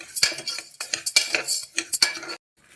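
Toor dal dry roasting in a metal pan, with repeated scraping and clinking of a spoon against the pan in an irregular rhythm, close and fairly loud, ending in a brief pause.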